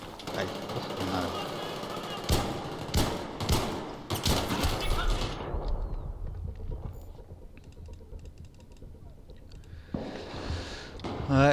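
Rapid bursts of gunfire in the video game Battlefield 3, Gun Master mode, crackling loud and dense for several seconds, then fading to quieter ambience before a short final burst.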